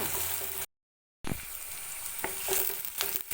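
Ginger and garlic sautéing in a pan, a steady bright sizzle broken by a brief silent gap, then resuming with a few louder stirring scrapes and pops; no talking.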